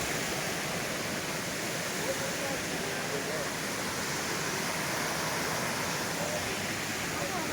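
Steady, dense rush of water from the Nozhatieh waterfall trail, a broadband roar filling the scene continuously at a constant level, with no pauses or distinct events.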